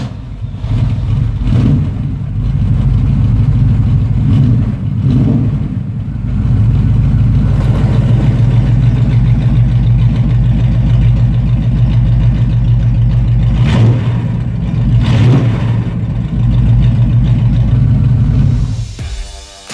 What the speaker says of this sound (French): je vais quand même vous démarrer la Firebird, histoire de retrouver un peu les sensations du V8, du glouglou